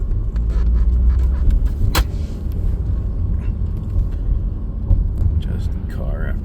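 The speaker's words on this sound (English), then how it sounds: "Just car after car after car after car after car" A steady stream of cars rumbles through a busy airport parking garage at Seatac on a Sunday, with constant close engine noise and a person talking over the traffic.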